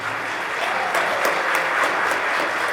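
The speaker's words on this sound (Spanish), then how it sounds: "Denle un aplauso fuerte a Jesús." A church congregation applauds at a sermon about God's design for the family, with steady, fairly close clapping that continues throughout the short stretch.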